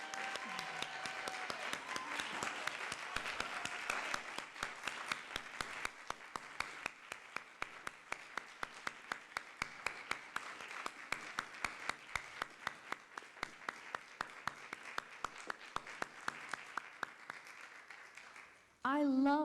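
An audience at a Poetry Out Loud recitation event gives a sustained round of applause, dense at first and thinning into steady rhythmic clapping that lasts about eighteen seconds before a voice begins.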